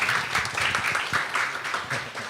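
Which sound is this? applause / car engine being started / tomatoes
applause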